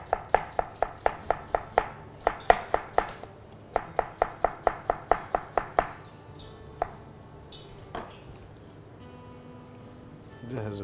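Onions being chopped on a board with a knife, two quick runs of rapid, evenly spaced sharp knocks, then a few scattered slower strikes and handling noises near the end.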